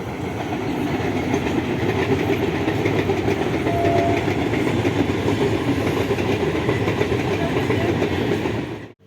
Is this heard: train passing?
yes